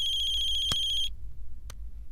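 A telephone rings with a steady electronic warble for about a second and then cuts off, followed by a couple of faint clicks in a quiet room.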